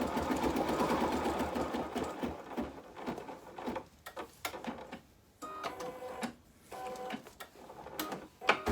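An embroidery machine stitches steadily at first, a rapid mechanical patter that gives way to intermittent clicks, whirs and pauses as the design finishes.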